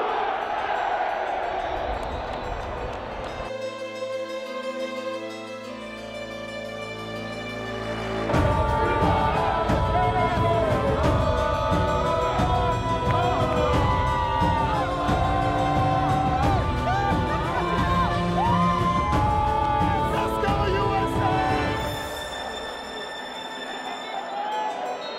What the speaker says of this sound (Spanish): Cuando están diciendo que gritan México,